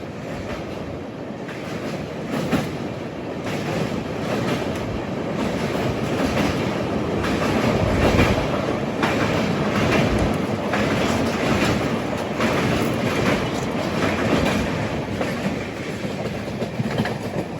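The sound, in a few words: train crossing over to the other track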